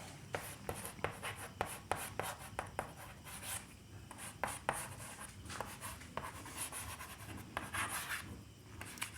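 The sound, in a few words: writing an equation with pen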